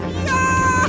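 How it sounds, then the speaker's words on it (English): A cartoon cat from Peppa Pig meows in a single drawn-out, tonal call lasting most of a second, loud and close over a low background hum. "Meow, meow, meow, meow, meow, meow."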